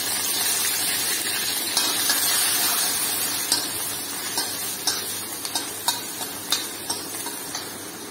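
Grated ginger frying in a pan gives a loud, continuous sizzle with repeated scraping taps of a spatula stirring, close and with no talk.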